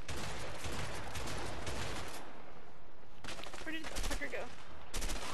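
Automatic gunfire from the video game A Way Out comes in dense bursts, loud and close, with brief gaps between volleys and a voice talking faintly underneath.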